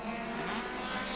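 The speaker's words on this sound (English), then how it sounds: "There's one car went past one of those mics there a moment ago, sounded very, very off." A touring car in a 1990 Australian championship race at Mallala roars past close to a trackside microphone, a loud, continuous engine rush with a rough, off-sounding note and no voices.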